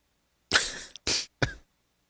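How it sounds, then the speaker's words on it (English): Three short, sharp coughs close by, each a quick burst separated by brief pauses, in an otherwise quiet room. "It's just, once in a while I cough."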